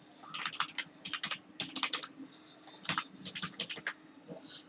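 Password typed on a computer keyboard while setting up an email account: close, quick bursts of plastic key clicks in uneven clusters with short pauses, alone with no talking.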